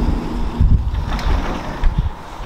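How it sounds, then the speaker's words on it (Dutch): Stormy wind gusts against the microphone in uneven low rumbles and thumps, with a broad rushing noise underneath and a few sharper bursts. "het is echt aan het stormen"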